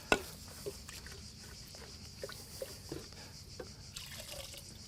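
Paint and water poured into a bucket, a soft liquid trickle with scattered drips and small splashes, quiet and close, with no talk.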